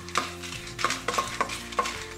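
Dried red chillies roasting in the same pan used for dried shrimp chutney, with several sharp scraping stirs over a low frying hiss.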